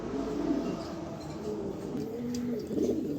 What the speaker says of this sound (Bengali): এটা আমার পছন্দের একটা নর, দেখার মতো একটা নর কবুতর